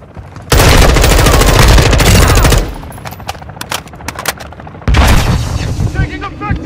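Heavy gunfire in Call of Duty Warzone 2.0: a loud sustained burst of rapid machine-gun fire, then scattered single shots and booms, then another dense roaring volley, all near and intense.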